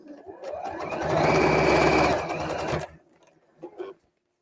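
A sewing machine stitches lining close to the edge in one continuous whirring run of about three seconds, close up, then stops. A few faint clicks and handling sounds follow.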